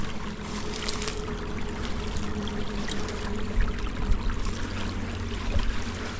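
Creek water flowing at a primitive riverside camp on Spring River, a steady trickling and gurgling wash with small splashes, moderately loud and continuous, no talking.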